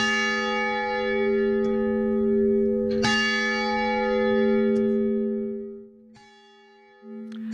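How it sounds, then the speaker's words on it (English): A restored 134-year-old bell from Gallatin's original fire department rings loud and clear, with one main strike around the middle and lighter strikes before and after, its long tone ringing on and fading between hits. "the bell that once rang atop of Gallatin's original fire department is back home to a beautiful new space"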